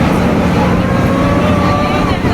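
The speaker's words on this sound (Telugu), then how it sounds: "మన బోటు బయలుదేరింది" A tourist boat pulls away from the Vivekananda Memorial rock, its engine giving a loud steady drone with wind buffeting the microphone throughout.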